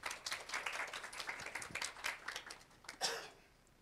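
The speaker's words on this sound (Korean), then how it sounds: "박수 부탁드립니다." Audience applause at a youth diplomacy academy session with a diplomat, a brief burst of clapping from a modest room of people that swells, peaks near the end and then fades out.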